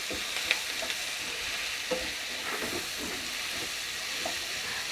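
Cauliflower pieces fry in hot oil in a pan for chilli cauliflower, giving a steady, close sizzle with small crackles and occasional stirring clicks throughout.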